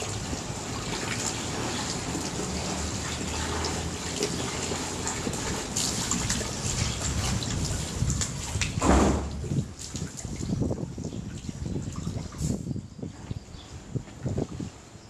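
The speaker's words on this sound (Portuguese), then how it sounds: "eu vou agitar e friccionar ele com a minha mão, para ele soltar mesmo as partículas de sujeira na água" Marine reef aquarium substrate stirred and rubbed by hand in a container of water to loosen dirt particles, giving continuous close sloshing and churning water noise with occasional splashy surges and no talking.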